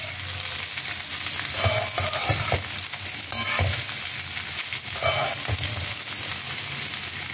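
Vegetables sautéing in a hot pan for sambhar rice, a continuous close frying sizzle with occasional stirring scrapes and clatters, no voices.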